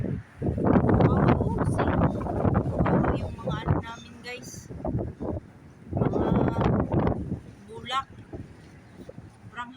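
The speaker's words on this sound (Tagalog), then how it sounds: "Sobrang hangin guys. Mahangin." Strong wind in Kuwait roars and buffets the microphone in heavy gusts, with people talking loudly over the rushing noise throughout.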